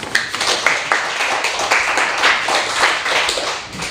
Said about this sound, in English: Bring him up with a round of applause